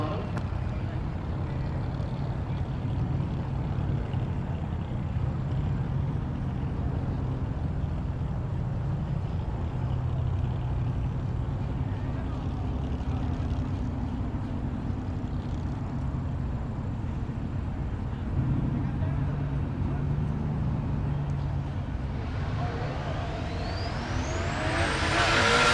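Engines of a white BMW M3 and a black Chevrolet Silverado staging for a drag race at Tulsa Raceway Park, a continuous low drone heard from a distance with a sharp rising whine at the very end.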